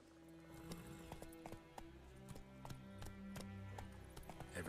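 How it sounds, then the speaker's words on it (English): A horse's hooves clip-clop in a steady trotting rhythm in the Witcher 3 game, crisp evenly spaced hoofbeats over soft game ambience, quiet and close. "Oh, so you can call for the horse as well."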